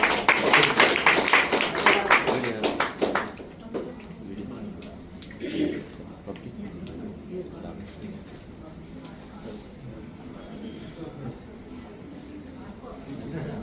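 Audience applause at an honouring ceremony as guests are invited forward: a dense burst of clapping for the first few seconds, then fading into scattered claps and murmuring room noise with voices.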